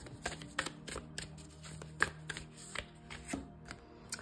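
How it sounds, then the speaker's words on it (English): Tarot cards are shuffled close by in quiet, irregular riffling bursts, soft flicks and taps spaced across a few seconds. "Let me shuffle another one."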